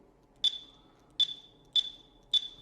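Four short, high electronic beeps from a Zebra TC20 barcode scanner sound at steady intervals over a quiet background, crisp and close by.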